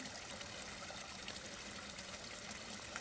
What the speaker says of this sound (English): And I thought him drinking water was going to be exciting.